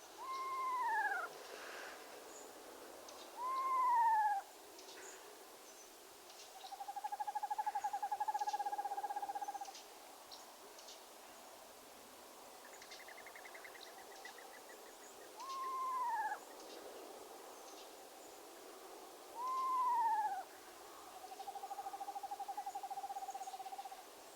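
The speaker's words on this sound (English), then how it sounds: "screech-owls singing in the cold September dawn." Screech-owls call in a cold September dawn, a series of descending whinnies and level trills spaced out over quiet background, fairly near and alone without voices.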